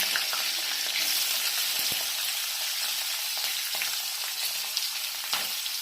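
Cumin, green chili and onion frying in hot oil produce a strong, even sizzle, with occasional stirring taps and scrapes against the pan.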